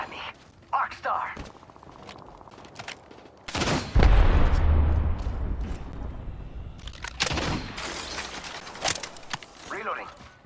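Apex Legends gunfire sounds as a dense, loud burst of rapid shots that swells and then keeps rattling with clatter, with a player's voice talking over the game audio before and during the shooting.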